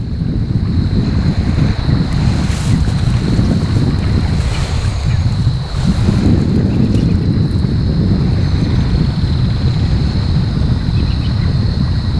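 An electric trolling motor drives a fishing boat through shallow water, a steady low churn heard close and continuously under heavy wind noise and lapping water, with no talking.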